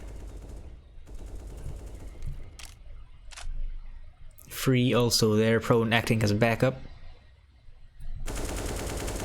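Pistol shots crack in a Counter-Strike style esports match, a rapid series of sharp bursts early and again at the end, heard under an excited caster's commentary.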